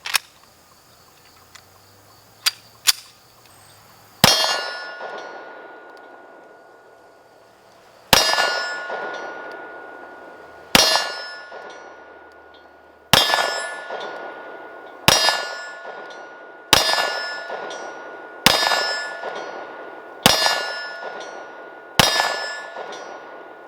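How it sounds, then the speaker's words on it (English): Sig Sauer Custom Works P320 AXG Scorpion pistol firing frangible rounds, eight sharp loud shots at a steady pace about two seconds apart, each with a ringing decay, after a few small handling clicks. "Those frangible rounds shoot good."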